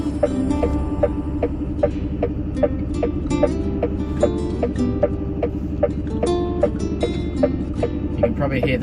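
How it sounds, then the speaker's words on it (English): A truck's turn indicator ticks in a steady, evenly spaced rhythm of sharp clicks inside the cab, loud over the constant low drone of the engine and road while driving in Australia. "Probably hear that my indicator is very loud."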